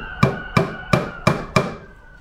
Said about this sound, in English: I'm just going to put a little finish nail into this section right here, the top of the camber